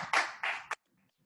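Short burst of audience clapping for a comedian at a virtual comedy show, three quick swells of hand claps in under a second that cut off abruptly into near silence.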